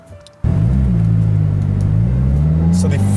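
A car with a stage 1 tune starts up with a sudden jump into a loud, steady engine drone that rises and falls slightly as it pulls away, heard from inside the cabin.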